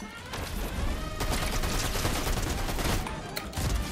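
SMG fire in Fortnite rattles in rapid continuous bursts, loud and close. The spray barely pauses across the few seconds.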